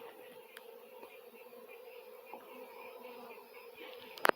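Italian honeybees at a hive in dense forest, a faint, steady buzzing hum with occasional clicks and a brief louder knock at the end.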